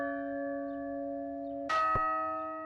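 A single deep bell toll, struck to imitate the opening of a well-known song, rings out with a sustained humming tone before and a sharp metallic strike near the end, clear and close.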